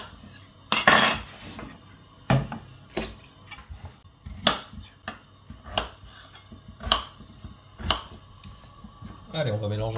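Knife chopping potatoes into small cubes on a cutting board, a series of sharp, irregular taps and clacks spaced about a second apart, close by, with faint rustling between strikes.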